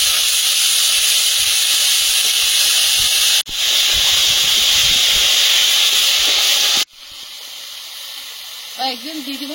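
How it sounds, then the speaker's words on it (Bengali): Brahmi greens frying in ghee in a wok, a loud, harsh steady hiss that cuts out abruptly twice, then continues more quietly with a brief voice near the end. "কড়াইতে একটু ঘি দিয়ে দেবো, দিয়ে শাকটা ভেজে নেব"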